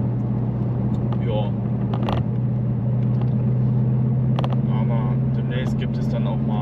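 Steady low car engine and road drone from inside a vehicle on a short drive home, continuous and close, with a person talking over it.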